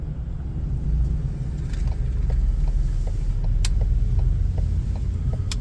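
Road traffic rumbles steadily in the background of a morning e-bike commute up a climb, a low continuous drone with light clicking and ticking from the bike, and no voices.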